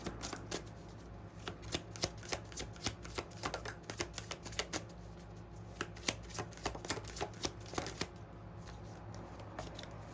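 Tarot cards are shuffled and pulled in a quiet room, giving a soft, steady run of riffling flicks and light card taps over about ten seconds, with no talking.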